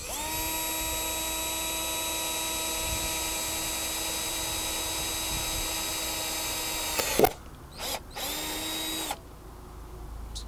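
A power drill with a small bit bores holes for screws while building a donation station, running steadily at a high whine for several seconds before stopping, followed by two short bursts of the motor.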